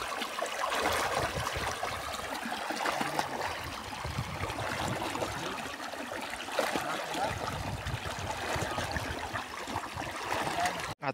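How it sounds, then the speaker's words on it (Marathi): Water gushes under pressure on a village farm, a constant close, broadband rushing and splashing flow that holds steady throughout, with faint voices in the background. "हे बघा पाण्याचं प्रेशर."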